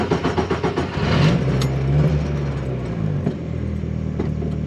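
A Fyber buggy's engine revs up as it accelerates, a rumbling pulse that climbs into a sustained rising drone, then eases and carries on running close by.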